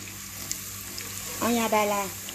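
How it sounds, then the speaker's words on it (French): Garlic and ginger fry in a pan with a soft, steady sizzle, briefly overlaid near the end by a short voiced sound. "حطيت الثوم وحطيت الجنجبر"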